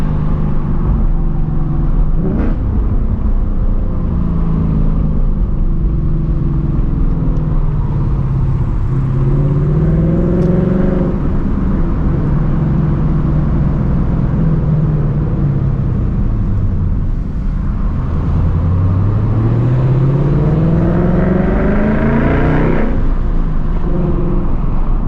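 A 2024 Ford Mustang driving fast, its engine droning loudly from inside the cabin with rising and falling pitch as it accelerates and shifts, steady road roar beneath.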